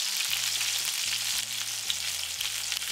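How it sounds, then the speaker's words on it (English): Beef chuck pieces seasoned with salt, Italian seasoning and black pepper sear in a pan, giving a steady, close, dense sizzle that runs throughout with a faint low hum underneath and no talking. "We are looking for a slight brown sear here"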